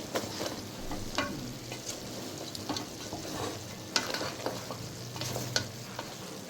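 Head-and-trotters sambar is stirred and scraped in a frying pan over a strong fire, with a steady sizzle and a run of repeated spoon scrapes and clacks, close and without talk.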